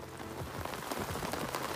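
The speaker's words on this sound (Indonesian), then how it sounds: "Kabut guys, hujan." Soft, steady rainfall patters at a campsite on a foggy, windy hillside at Mega Mendung, Bogor, faint and continuous with no voices.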